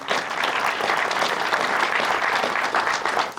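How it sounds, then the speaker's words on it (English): A round of applause from the audience at an energy summit opening reception, honoring the staff: dense, lively clapping from a sizable crowd, sustained and fairly loud throughout. "Let's give them a round of applause, our great staff."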